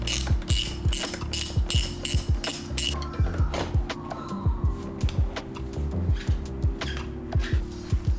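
Tools working on a motorcycle to remove its seat, with a rapid run of sharp, evenly spaced ratchet clicks at first, then irregular mechanical clicks and taps close by against a steady low hum.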